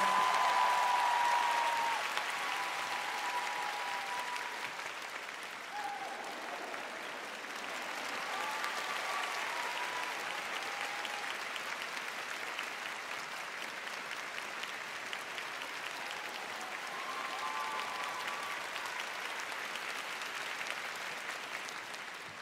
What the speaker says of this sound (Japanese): 大きな拍手をお願い